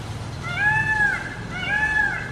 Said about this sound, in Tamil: மயில் சத்தம் கேட்குது.